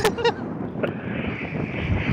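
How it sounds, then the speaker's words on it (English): Wind buffets the microphone with a low, rumbling roar at Fuerteventura Airport in the rain, and a brief voice-like sound is heard at the start. "It is incredibly windy."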